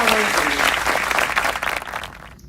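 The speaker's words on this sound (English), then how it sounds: "Let's give a big round of applause to all our winners." Audience applause for contest winners at a cultural celebration finale, a dense burst of clapping from a crowd that fades out over a couple of seconds.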